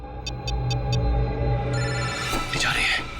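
A telephone rings on an outgoing call, four short evenly spaced electronic beeps near the start, followed by a steady hum and people talking.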